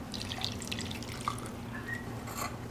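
Dizi broth, a Persian lamb soup, is poured over small torn pieces of sangak bread, giving a faint, soft trickle and light drips over a low steady room hum.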